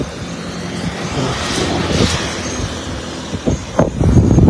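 An agricultural spraying drone works over a rice paddy, its steady propeller drone holding throughout at moderate distance, joined near the end by a few louder bumps and handling noises.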